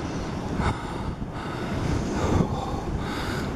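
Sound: strong wind blowing at a ski jump

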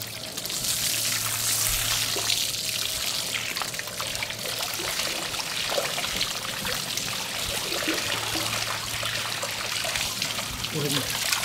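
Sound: water rinsing blood off a fish fillet

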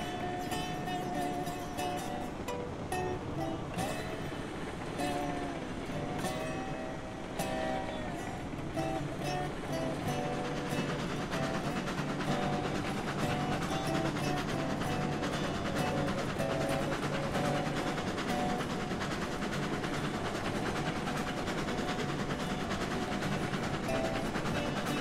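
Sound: locomotive chugging along in Railroads Online video game

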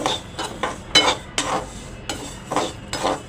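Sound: stirring whole urad dal roasting in a pan

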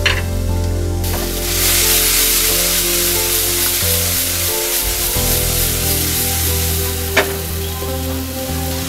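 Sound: tomatoes frying in pan for masala noodles

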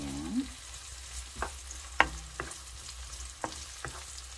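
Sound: garlic frying in a pan

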